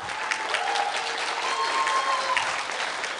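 Steady applause from a crowd, continuous clapping at a moderate distance with a few brighter claps standing out, no talking.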